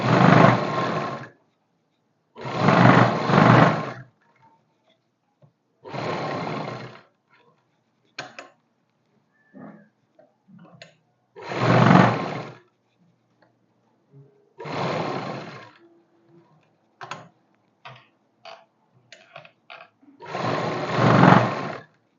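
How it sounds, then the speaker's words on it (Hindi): A sewing machine stitching a co-ord dress runs in repeated short bursts of a second or two, loud and close, with clicks and small handling noises between runs, and no talk. "तो मैं लगा ही देती हूँ एक और सिलाई इसके ऊपर।"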